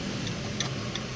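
Turn indicator of a Suzuki Brezza ticking inside the car, a few faint, evenly spaced clicks over a steady low cabin hum.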